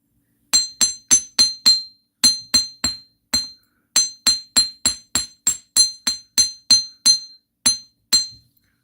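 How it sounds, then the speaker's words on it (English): Jewelry wire is hammered on a hard block, with sharp metallic strikes in quick bursts of several blows, each ringing briefly before the next, close and clear with no talking. "start at the bottom when you're hammering"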